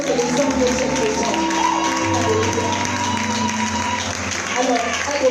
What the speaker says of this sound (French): Acclamez encore pour les autres et les hommes de cette maison.